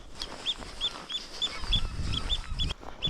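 Seabirds on an arctic island, with geese and gulls calling in repeated short honks and squawks, fairly close, over steady wind and ambient outdoor noise.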